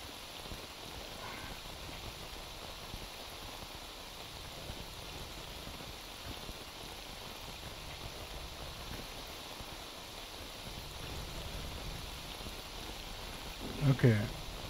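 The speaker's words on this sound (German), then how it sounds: "Regen und nachts ist natürlich alles ganz hervorragend." Steady rain falls at night in the video game STALKER Anomaly, an even hiss of drops on surfaces that runs through the whole stretch, with a brief louder bump of movement near the end.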